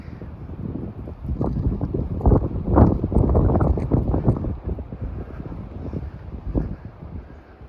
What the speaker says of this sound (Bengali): অত্যন্ত এটা ভ্যালি তো, যার জন্য বাতাস খুব